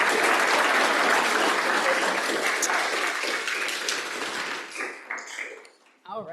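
An audience at a school board of education meeting applauds retirees with loud, dense clapping that thins out toward the end into a few scattered claps.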